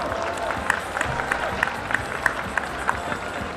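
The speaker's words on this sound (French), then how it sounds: "tenez un applaudissement pour Jasmine et Thor" An audience at a Japan Touch kids' cosplay parade applauds cosplayers Jasmine and Thor, dense clapping and crowd noise with a few sharper claps standing out.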